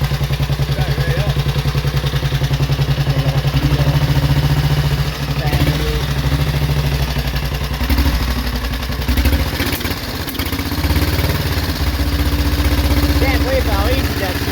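A motorcycle engine idles steadily and loud right after starting, with a low mechanical rumble and some clatter, while a person talks over it now and then.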